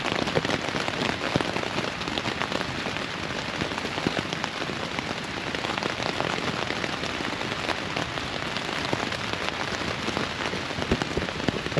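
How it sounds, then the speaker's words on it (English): Steady rain falls during a summer thunderstorm on the Appalachian Trail near the Mason-Dixon line, a dense, even hiss of drops on surfaces that continues without a break, close and moderately loud, with no talk. "since it's been so long, I'm appreciating the rain"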